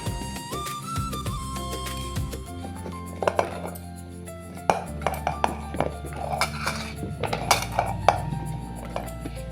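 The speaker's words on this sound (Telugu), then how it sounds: "ముందుగా ఒక కుక్కర్ తీసుకొని దాంట్లోకి ఇప్పుడు మనం తరిగిన వెజిటబుల్స్ అన్నీ వేసేసేయాలి" Chopped vegetables for sambar tipped into a pressure cooker, a run of metallic clinks, scrapes and clatters of a spoon and pot, close and moderately loud with an irregular rhythm.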